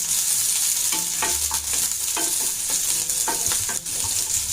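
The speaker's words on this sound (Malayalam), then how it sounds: "അത് നല്ലപോലെ ഒന്ന് ഇളക്കി കൊടുക്കാം" Sliced onion and slit green chilli sizzle steadily in a pan while a spoon stirs them, its scraping strokes repeating every second or so over the constant frying hiss, close and loud.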